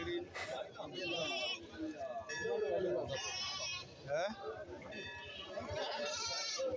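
Goats bleat repeatedly at a livestock market, several wavering calls overlapping near and far amid crowd chatter and voices.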